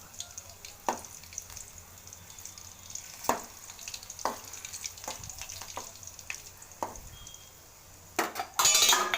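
Poha (flattened rice) and garlic dry-roasting in a pan, with faint sizzling and scattered clinks and scrapes of a spoon stirring against the metal, a louder clatter near the end; no voices.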